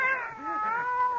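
Cat meowing in a radio drama, a drawn-out, wavering caterwaul with a rising and falling pitch, close and fairly loud, heard alone without any talk.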